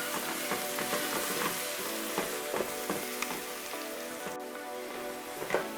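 Onions and garlic fry in a pan with a steady, dense sizzle, punctuated by repeated scraping knocks as a spoon stirs them, close and fairly loud with no voices.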